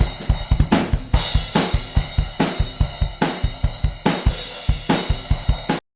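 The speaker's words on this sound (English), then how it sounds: "if we listen to the drums as they are" Unprocessed metal drum kit playing a fast, driving pattern of kick and snare hits under repeated cymbal crashes, close and loud with no voices, cutting off sharply at the end.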